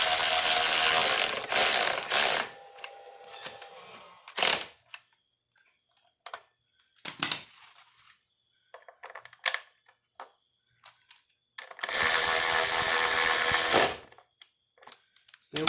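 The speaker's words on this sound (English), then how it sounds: "This bolt here actually bolts into the motor mount." A ratchet tightens a bolt into a Honda Accord F23 motor mount, bursts of rapid clicking separated by pauses, with scattered metallic clinks and taps between them, close up and with no talking.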